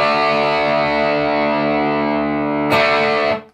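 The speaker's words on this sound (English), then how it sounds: "it will make the whole power chord sound out of tune" A distorted electric guitar power chord rings long and loud, sounding out of tune from a pinky pressing too hard, then is struck again near the end and quickly choked off.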